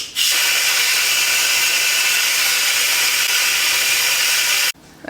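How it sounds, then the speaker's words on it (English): A pressure cooker vents a loud, steady hiss of steam after cooking beans, the blast running almost five seconds close by before cutting off abruptly near the end. "I'm gonna put it on vent"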